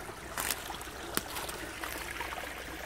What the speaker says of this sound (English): Creek's still running.